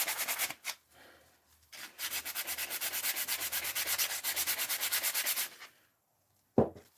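Old varnish being sanded off by hand: brisk, rhythmic back-and-forth rasping strokes in a long run after a few short passes, then a pause and a single sharp knock at the end.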